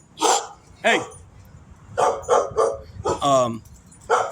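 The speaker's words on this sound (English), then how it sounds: "The dogs are probably gonna bark right now." Dogs barking nearby in short, sharp bursts, a single bark, a pause, then a quick run of several barks ending in a yelping, whining call and one last bark, with quiet room noise between.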